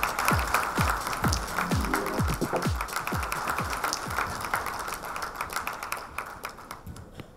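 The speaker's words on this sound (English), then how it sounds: "Let's have a big round of applause" Audience applause at an auto industry talk, with sharp individual claps at first that thin out and fade toward the end, heard fairly close with no speech over it.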